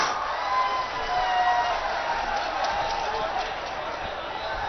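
A large crowd at a farmers' maha panchayat rally in Kasganj roars and cheers in a steady, loud wash of voices and applause that holds throughout.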